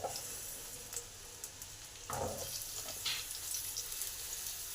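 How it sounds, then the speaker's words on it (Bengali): Pointed gourd (potol) frying in a little oil, a faint steady sizzle with occasional soft stirring scrapes, quiet and close with no talk. "এবার সামান্য পরিমাণ তেল দিলাম, পটলগুলোকে ভেজে নেব।"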